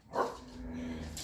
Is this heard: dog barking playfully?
yes